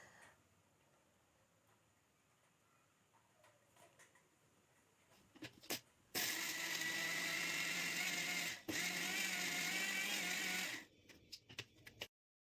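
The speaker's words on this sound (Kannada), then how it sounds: "ನಾವು ಇಲ್ಲಿ ಓರಿಯೋ ಬಿಸ್ಕೆಟ್ನ ಒಂದು ಮಿಕ್ಸಿ ಜಾರ್ಗೆ ಹಾಕಿ ಪುಡಿ" A mixie jar grinds Oreo biscuits into powder: after a few quiet clicks, a loud, steady motor whir starts abruptly, dips briefly, runs for about five seconds in all and then cuts off.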